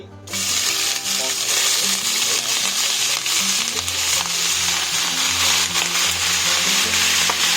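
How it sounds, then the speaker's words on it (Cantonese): Duck pieces are stir-fried in a large, thin-walled pot, browned deeply for a brown stock. A loud, continuous sizzle carries on with occasional stirring, and no one speaks. "咁我哋所以其實我哋要炒到佢係好深色，先至出得到呢一個 brown 嘅顏色嘅"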